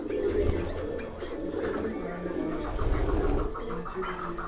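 Pigeons of Master Abdullah's line, held in a handler's hands, coo in a low steady murmur throughout, with the throaty calls running continuously and fairly close alongside faint background voices.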